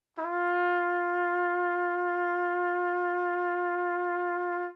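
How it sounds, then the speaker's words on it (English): One sustained trumpet note held for several seconds, bright and steady with a gentle wavering mechanical hand vibrato, close and alone. "On a trumpet, this sort of mechanical or hand vibrato looks and sounds something like this"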